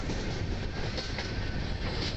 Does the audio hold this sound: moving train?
yes